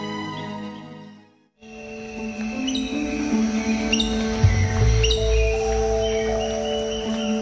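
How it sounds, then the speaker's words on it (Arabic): Many colourful tropical birds calling in lowland Amazon rainforest in Colombia, below the Andes: after a brief silence, a dense chorus of whistles, chirps and sustained tonal calls rises and continues, with overlapping voices near and far. "الطيور ذات الألوان الجميلة تحلق، ومجموعة كبيرة منها تزقزق ليصل صداها عبر الأشجار"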